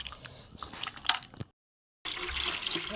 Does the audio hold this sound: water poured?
yes